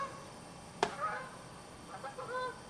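A sharp single honk from a goose, then a few softer honks a moment later, fairly close, with no talking.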